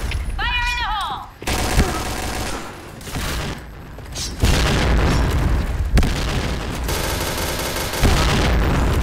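A grenade explodes during Point Blank gameplay, with loud booms and crackling rounds of gunfire over several seconds of chaotic battle noise, and in-game voices heard now and then.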